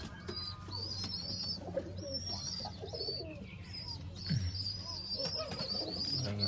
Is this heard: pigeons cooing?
yes